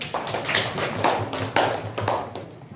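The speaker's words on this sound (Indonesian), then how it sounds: "Tepuk tangannya untuk kelompok 1." A classroom group clapping for group 1, with sharp, close claps falling into a rough rhythmic pattern of bursts and no talking over it.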